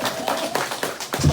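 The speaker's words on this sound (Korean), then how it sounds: "박수 한번 쳐주세요" A few people clap briefly at a Korean construction workers' union talk, sparse uneven hand claps close by, with a murmur of voices underneath.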